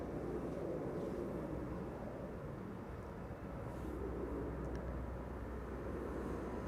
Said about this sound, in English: Air Canada is on the move, and there it is. Air Canada A330-300, flight 809 to Toronto.